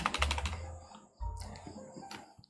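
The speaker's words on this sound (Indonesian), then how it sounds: "kita ketik aja dulu di sini ya" Close, quick bursts of keystrokes on a computer keyboard arrive in two short runs separated by a brief pause, with light clicks trailing off at the end.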